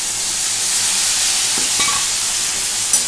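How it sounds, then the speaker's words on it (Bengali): Prawn curry with taro and potato sizzles in a pan while being stir-fried, a loud, steady frying hiss that runs throughout, broken by a faint scrape of stirring near the end. "দিয়ে এটা আমি এখন ভালো করে একটু কষবো।"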